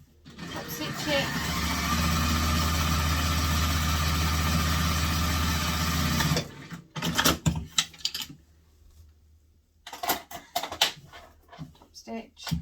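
A sewing machine top stitching a backpack runs as a steady, continuous whir for about six seconds, then stops and gives way to scattered handling noises.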